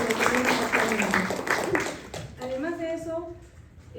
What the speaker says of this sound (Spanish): yo pido de verdad un fuerte aplauso para los dos autores